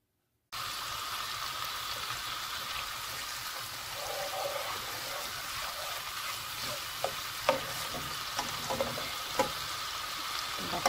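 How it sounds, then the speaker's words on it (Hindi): Butter and gram flour frying in a pan at home, a steady close sizzle running throughout with a few light scrapes and clinks of stirring near the end. "पहले मैंने बटर डालना है, तो बेसन इसको भूनना है।"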